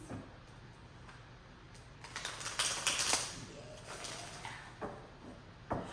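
A tarot card deck being shuffled gives soft riffling and flicking, with a louder rustling burst in the middle followed by a few scattered card snaps, all close and fairly quiet.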